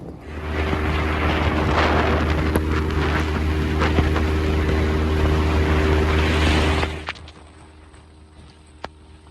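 A fishing boat's motor drones steadily and loudly with wind noise while heading back to the dock on a bay in an east wind, then cuts off abruptly near the end, leaving faint background.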